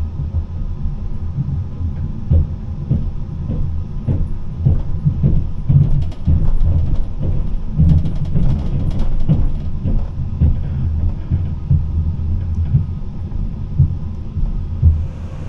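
A Talgo night train from Tashkent to Almaty rolls over rough rails, a continuous low rumble with irregular thumps and rattling knocks, heard from inside the carriage with no voices.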